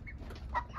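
A chicken gives a brief, faint cluck or two at a small backyard flock of about fifty hens and roosters, with a low rumble underneath.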